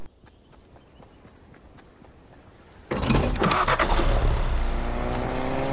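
A car in Fortnite starts driving and its engine roars up, loud and sustained with rumbling road noise, after a quieter stretch of faint ambient game sound; no speech.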